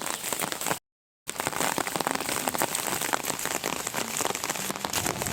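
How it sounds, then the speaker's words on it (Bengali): Heavy rain with big, fat drops pours onto a road, a dense, loud, continuous patter that cuts out briefly near the start before roaring on. "দেখো কিরকম বৃষ্টি পড়ছে।"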